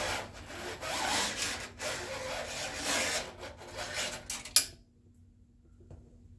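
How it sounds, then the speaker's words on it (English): A Model A Ford speedometer cable is drawn out of its housing, producing a close, rough scraping rasp in several uneven strokes that stops abruptly with a small click, followed by near silence. "So I got the cable undone, so pull this cable out."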